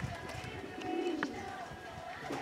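A domestic pigeon at a village loft coos with a low, soft, rolling call, close and quiet, over faint background rustle and murmur.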